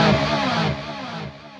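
An electric guitar tone through a UAFX Lion '68 Super Lead amp pedal and Starlight Echo Station delay, repeating echoes turning gritty and distorted, the trails smearing into a fuzzy wash before fading slightly.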